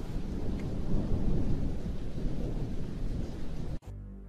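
Heavy rain pours in a steady, dense roar with deep thunder rumbling beneath, loud and continuous until it cuts off abruptly near the end, leaving a low residual hum.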